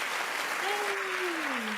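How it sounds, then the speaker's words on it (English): Applause for Jane on a podcast: a steady wash of clapping throughout, with a brief rising-then-falling whoop over it. "Some more applause for Jane."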